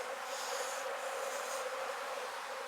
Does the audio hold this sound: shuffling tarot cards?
no